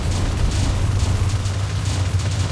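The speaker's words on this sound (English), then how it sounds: "Explosion!" A spell explosion in the video game Tensura: Advent of Magic lands as a steady, loud low boom and rumble. It holds for a couple of seconds with a faint crackle above it, and no one talks over it.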